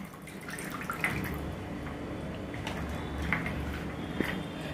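Boiled peanuts sit in a strainer as water drains off them in a soft, quiet trickle with occasional faint drips and light clicks, close and low in level.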